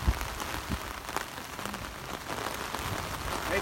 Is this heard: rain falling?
yes